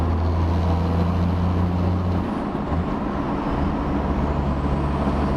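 A car engine fitted with a Mamba anti-surge ball-bearing billet turbo, exhaust cutout closed, gives a steady loud low drone that shifts pitch partway through as revs change.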